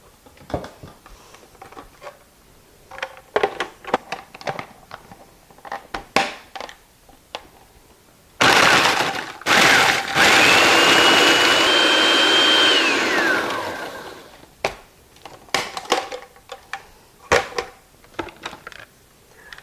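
A blender whirls up Oreo cookies for a no-bake Oreo lemon icebox dessert, a loud steady motor roar of about four seconds broken by a pause, set between stretches of clattering and tapping.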